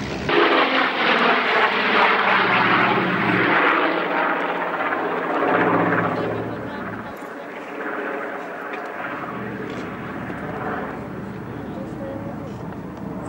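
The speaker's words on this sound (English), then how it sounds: "Big aeroplane." A large propeller aircraft drones loudly and steadily overhead, its engine roar filling the whole stretch without letup.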